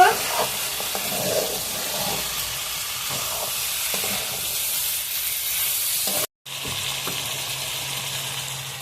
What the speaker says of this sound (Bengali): চুই ছালের সঙ্গে মাংস ভালোভাবে কষিয়ে নেব